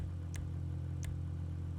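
Grotti Furia supercar in GTA 5 idling with a steady low engine rumble close up, two short sharp high clicks or pops cutting in over the drone.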